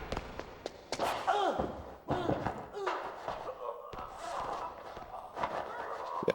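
In the Metal Gear Solid video game, a patrolling guard is beaten up, giving a string of sharp, close thumps and slams in an irregular rhythm, mixed with grunts and other game effects.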